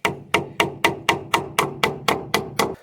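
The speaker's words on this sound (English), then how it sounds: "This 1x3 is really difficult to nail into." Hammer driving nails into a thin 1x3 board during a greenhouse and barn build: eleven sharp, evenly spaced blows close to the microphone, each ringing briefly before the next, with no talking.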